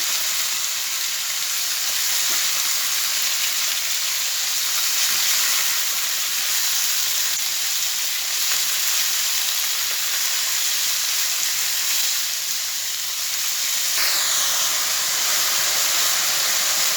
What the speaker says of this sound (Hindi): मैं इसको इस पैन के अंदर हल्का सा फ्राई कर लूँगा, ज़्यादा नहीं, सिर्फ 4 से 5 मिनट